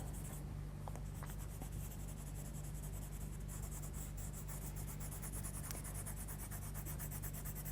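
Coloursoft coloured pencil shading dark red over paper for a pepper drawing, a steady soft scratchy rasp of graphite-like strokes running continuously and close, with no talk over it.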